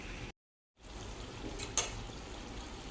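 Chicken fries in oil under a lid for gongura chicken curry, giving a quiet, steady sizzle with a brief dropout and a small crackle partway through.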